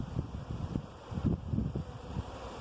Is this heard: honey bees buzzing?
yes